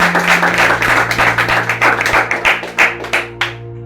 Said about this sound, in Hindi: मैं चाहता हूँ एक बार आप आपके पास्टर के लिए जोरदार ताली बजाएं।